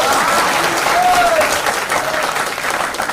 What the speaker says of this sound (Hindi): सुधीर सर के लिए जोरदार तालियां